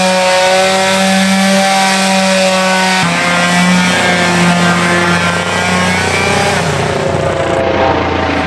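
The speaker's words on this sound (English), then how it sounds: "Next, I'm whipping out some 80 grit sandpaper and the palm sander." A palm sander with 80 grit sandpaper works wood panels for a truck bed camper, a loud, steady motor whine with a buzzing hum that shifts pitch slightly partway through, running continuously with no talking.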